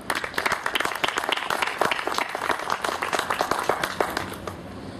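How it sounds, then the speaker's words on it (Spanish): Audience at an economists' forum in Lima applauds to welcome the speaker, a sustained round of dense clapping with distinct individual claps standing out, moderately loud and gently tapering toward the end. "los invito a recibir a nuestro expositor con un fuerte aplauso"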